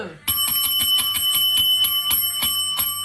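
A small bell rings repeatedly in a quick, steady run of bright strikes to close a round in a live game stream, close and fairly loud throughout.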